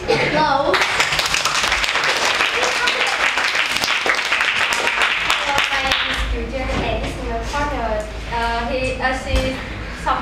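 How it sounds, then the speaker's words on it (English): Students in an English class clap for classmates, with a brief burst of applause at the start that gives way to a teacher talking. "And class students give them big applause."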